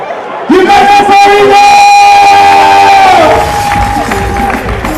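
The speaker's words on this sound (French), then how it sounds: "Un maximum d'applaudissements pour Kimana formidable" A live show audience cheers loudly for the performer Kimana, with whoops and shouts over crowd noise and scattered clapping that stays strong throughout.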